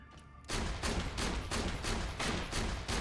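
Hyperion Bullpup shotgun firing in the video game Borderlands The Pre-Sequel, a rapid steady string of loud booming shots, roughly three per second, starting abruptly after a short quiet lead-in.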